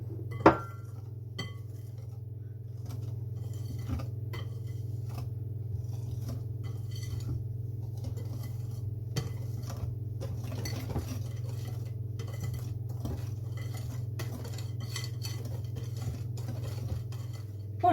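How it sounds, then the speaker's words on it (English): Self-raising flour being gently folded into an egg and sugar mixture for double chocolate brownies, heard as soft scrapes and occasional clinks of a utensil against a bowl over a steady low hum, no talking. "we're going to add 50 grams of self-raising flour. I'm just going to fold that in gently"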